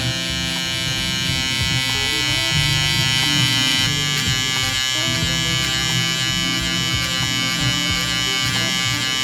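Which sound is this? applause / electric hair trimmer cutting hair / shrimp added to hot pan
electric hair trimmer cutting hair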